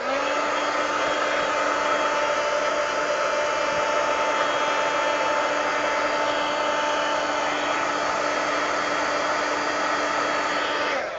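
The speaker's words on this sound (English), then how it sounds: "Let me hit this with the heat gun, because if I close it now with wet paint," A heat gun blows in a steady, loud, unbroken whoosh with a constant whining tone, drying wet paint on the pages of an altered book, with no talking over it.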